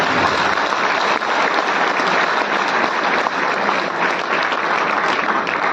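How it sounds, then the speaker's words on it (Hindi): An audience at a network-marketing health awareness event gives a speaker loud, sustained applause, a dense and steady wash of clapping that lasts throughout. "जोरदार तालियां साहब के लिए"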